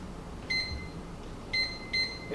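Microwave oven keypad beeps as the timer is set for cooking chestnuts: three short, clear electronic tones, one and then two close together, heard nearby over a quiet room.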